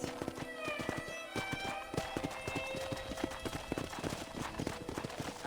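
In the Red Dead Redemption video game, horse hooves clip-clop in a quick, steady rhythm that stays close and prominent throughout, with faint ambient sound behind.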